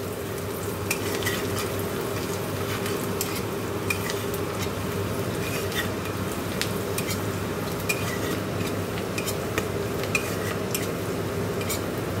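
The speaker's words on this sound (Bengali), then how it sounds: "পাঁচ ফোড়ন, শুকনো লঙ্কা ফোড়ন দিয়ে পেঁয়াজ ভাজছি" Onions frying in hot oil with panch phoron and dried chilli in a home kitchen, a steady close sizzle with occasional spatula scrapes and clinks of utensils throughout, no voices.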